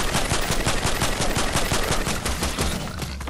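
Sustained automatic gunfire in the video game Fortnite, a dense rapid stream of loud close shots with steady rhythm running the whole time, no talking.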